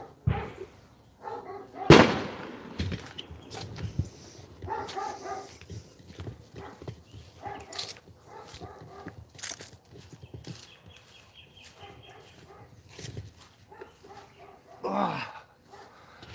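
Dog barking and reacting to fireworks going off, with sharp bangs and crackles scattered among bursts of barking, fairly faint and distant, with a person talking in between.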